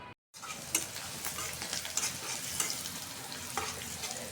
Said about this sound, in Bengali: কিছু করলা ভাজিটা বসাই দিয়েছি আমি